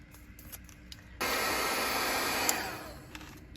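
A hair dryer switches on partway through and blows steadily and loudly over an art journal page. Quieter room noise comes before it.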